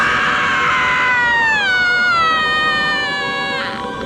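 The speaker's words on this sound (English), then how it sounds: "The patrons finally realize something's wrong when she gives out a banshee scream." A woman lets out a long, loud, wavering banshee scream in a crowded movie theater from Scream 2, sustained for several seconds before breaking off.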